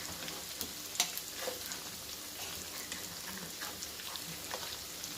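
Chana dal patties fry in a pan with a faint, even sizzle and soft spattering pops, steady and quiet throughout.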